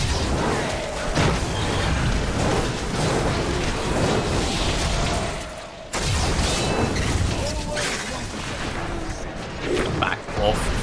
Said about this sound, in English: Back off from the massive explosions.